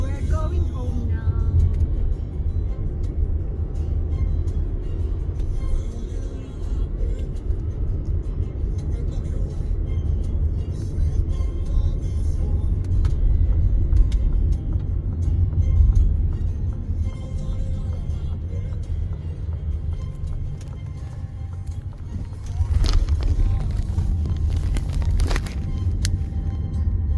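Steady low rumble from inside a car on the drive home in Austria, running for nearly half a minute with light road noise, while people talk now and then.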